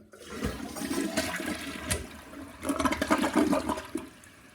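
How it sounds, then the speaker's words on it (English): A newly replaced toilet flushes, a close rushing swirl of water that surges, eases briefly, then swells again into a strong gurgling drain before tapering off. "It flushed nicely. Let's try it again here."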